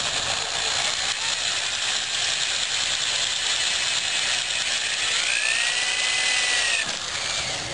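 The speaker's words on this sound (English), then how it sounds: "I'm going to put this drill in reverse until it punches a hole in the material" A drill running in reverse to punch through vinyl top material whines steadily and loudly throughout, a high mechanical grinding with a rising ratcheting pitch near the end, alone with no voices.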